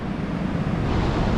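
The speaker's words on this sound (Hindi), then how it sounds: "काफ़ी तेज़ लहरें। वो देखिए चट्टान से टकराती हुई, उछलती हुई।" Strong sea waves crash against rocks at Galgibaga beach in Goa, a steady loud roar of surf with wind buffeting the microphone throughout and no distinct individual breaks.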